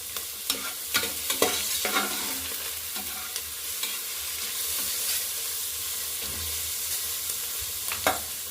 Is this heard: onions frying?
yes